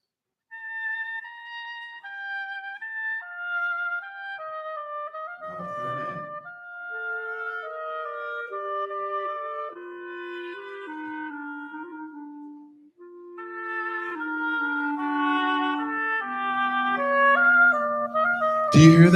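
Oboe and clarinet trade a lyrical Gershwin melody in canon, clean sustained woodwind lines overlapping in imitation; a brief percussive thump in the middle and a sharp hit at the end.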